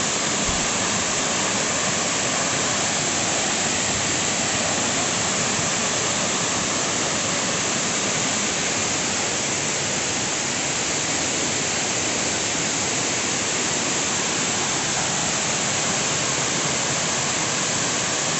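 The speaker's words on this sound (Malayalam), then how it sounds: "നല്ല ഹൈറ്റിലാണ് മുകളിൽ നിന്ന് വെള്ളം വീഴുന്നത്" Water plunges from a great height at Punnayar waterfall, a loud, steady, broadband roar that continues without a break.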